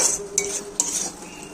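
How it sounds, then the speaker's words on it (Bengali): A metal spoon scrapes and clinks against a pan while spice paste is sautéed with mustard oil, a few sharp stirring knocks over a soft frying hiss, close and fairly quiet. "মশলা কষানো হচ্ছে, তো মশলা কষিয়ে নিচ্ছি এখন।"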